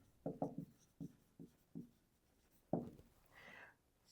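Pen writing on paper while working a fraction problem, a series of short scratchy strokes in an irregular rhythm, close and fairly quiet, ending in a brief rubbing sweep.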